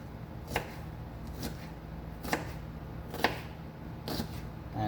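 A not-too-sharp knife chops vegetables on a board while stuffed zucchini is prepared, four spaced, fairly crisp strikes standing out over a quiet kitchen background.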